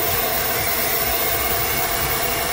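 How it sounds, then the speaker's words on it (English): A blow dryer runs loudly and steadily at close range, drying moisturizer on a man's face during makeup application, a continuous whooshing roar that cuts off abruptly at the end. "you can use a blow dryer."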